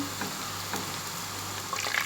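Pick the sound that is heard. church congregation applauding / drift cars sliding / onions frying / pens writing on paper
onions frying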